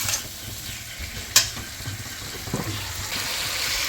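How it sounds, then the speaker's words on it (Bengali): Onions and capsicum stir-frying in a pan give a steady soft sizzle, with a sharp clack of a utensil against the pan near the middle and a few quieter stirring scrapes after it. "এবার এটাকে ভালো করে 2 মিনিট আমি এর মধ্যে ভাজবো।"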